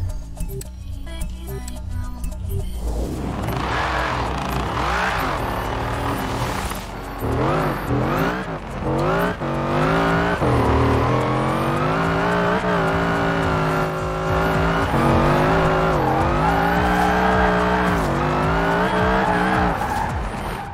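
Car engine in the racing game Forza Horizon 4, driven from the cockpit view with drifting, loud and continuous, revving up and down with rising and falling pitch and tire squeal throughout, no talk.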